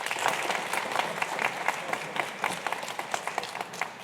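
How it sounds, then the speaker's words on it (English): A crowd at a 2015 Lockport mayoral debate applauds, a dense, sustained patter of many hands clapping from the hall, fairly loud and even throughout, with some murmuring underneath. "we're hoping to hold applause till the end of the evening"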